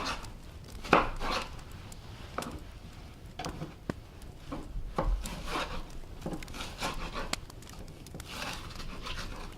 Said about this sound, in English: And I'm just going to start it, do some straight across slices.